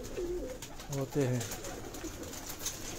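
Pigeons gathered for competition coo softly in low, throaty phrases on someone's rooftop. Someone speaks briefly over them.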